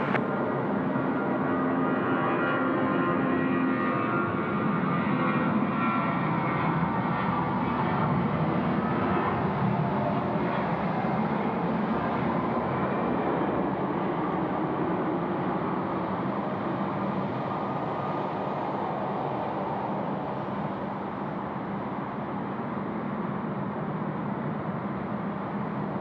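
Jetstar airliner landing on runway 16 right at Sydney Airport at night, a steady broad roar of engines and rushing air holding throughout, fairly loud and continuous with no voices.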